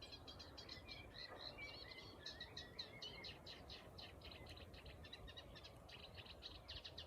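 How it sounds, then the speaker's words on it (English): A reed warbler sings a continuous chattering, scratchy song from a reedbed along a quiet lane, fairly distant and faint over a soft wash of wind and ambient noise. "Reed warbler in there."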